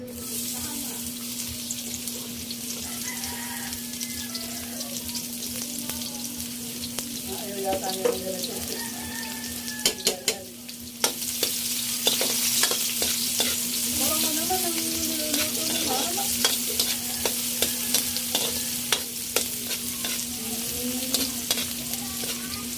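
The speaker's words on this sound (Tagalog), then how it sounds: "tayo ay magigisa na. Mantika. Yan, ilalagay na natin yung ating sibuyas at bawang" Onion and garlic sizzle in hot cooking oil for a crab mung bean stew, a steady bright frying hiss that swells louder as the aromatics are stirred, with scraping and a faint electrical hum underneath.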